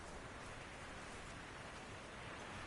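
Steady, dense rushing water noise, even and continuous throughout, like a waterfall heard from close by, with no voices.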